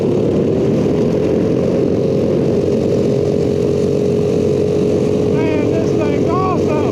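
A vintage go-kart engine runs continuously in a loud, steady drone, close by, with a voice briefly heard over it near the end.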